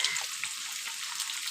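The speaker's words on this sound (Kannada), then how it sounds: "ಈರುಳ್ಳಿ ಬ್ರೌನ್ ಕಲರ್ ಬರುವಷ್ಟಕ್ಕೆ ನಾವು ಫ್ರೈ ಮಾಡಬೇಕು ಅದನ್ನು" Chopped onions fry in hot oil in a pan for a spicy chicken gravy masala, a steady close sizzle with small crackles and pops throughout, no voices.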